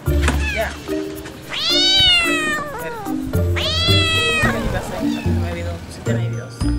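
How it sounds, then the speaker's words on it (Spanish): A loose cat meows loudly, letting out two long drawn-out cries and several shorter ones, while people talk and move about close by. "Se salió el gato, se salió el gato."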